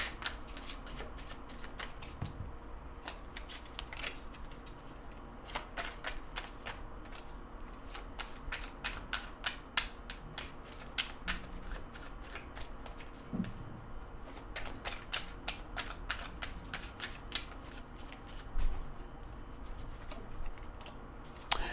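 A deck of oracle cards is shuffled again and again, making a continuous close riffling and flicking that stays steady with small bumps, heard alone.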